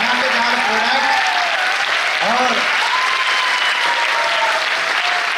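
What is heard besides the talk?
audience applause welcoming a product at a training event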